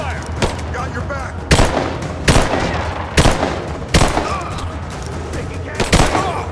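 Gunfire in Rise of the Tomb Raider: loud, sharp shots break out repeatedly over a dense background rattle of firing, with booming reports spaced every second or so.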